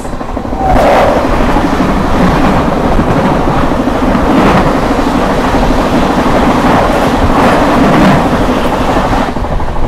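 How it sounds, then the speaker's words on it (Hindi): The New Delhi–Islampur Magadh Express thunders past very loud and close, a continuous heavy roar of wheels and carriages lasting throughout with rhythmic surges. "सामने से आती हुई न्यू दिल्ली इस्लामपुर मगध एक्सप्रेस।"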